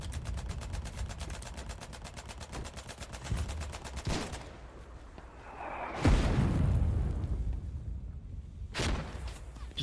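Rapid automatic gunfire fires suppressing bursts in the war game Foxhole, a fast rattling stream that stops, followed by loud booming shots and a heavy blast with lingering rumble.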